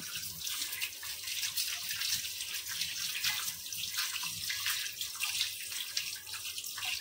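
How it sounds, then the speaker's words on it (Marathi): Raw chicken being washed by hand under a running kitchen tap, with a steady close rush of flowing water and small splashes and clatter as the pieces are rinsed, continuous for several seconds with no talking. "धुताना ना असं वाहत्या पाण्यामध्ये धुवायचं आहे"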